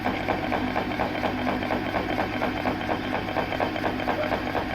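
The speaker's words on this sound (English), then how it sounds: "Just stop the lathe" A metal lathe turns a clutch part for a car, a steady close mechanical whir with a rapid, even pulsing chatter throughout.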